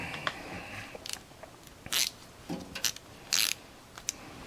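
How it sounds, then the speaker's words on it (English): A ratchet turns a 10mm socket on a bolt during a Ford Ranger tailgate handle repair, giving short bursts of crisp clicking spaced irregularly over faint background noise. "Using a 10mm socket here."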